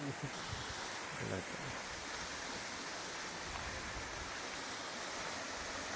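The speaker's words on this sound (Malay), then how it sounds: "Kita singgah dekat ni air terjun Celah Batu." The Celah Batu waterfall near Pos Tenau in Perak gives a steady, broad rushing roar of falling water that stays constant throughout. A voice briefly rises above it early on.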